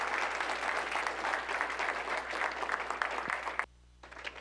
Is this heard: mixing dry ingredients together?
no